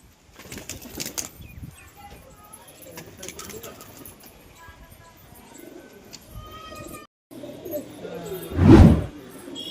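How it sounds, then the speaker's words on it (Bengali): A young pigeon takes off with a burst of loud wing flapping near the end, after a stretch of faint cooing and rustling among a flock settling down. "একটি নতুন কবুতর উড়ে উঠেছে বাচ্চা কবুতর ওই যে ওইদিকে চলে যাচ্ছে"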